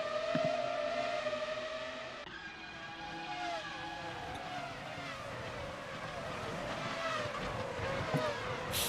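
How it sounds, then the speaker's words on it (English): Real Formula 1 race cars scream past, their high-pitched engines rising and falling in steady harmonic whines as several cars pass in succession at moderate distance, with faint background noise. "Real F1 sounds."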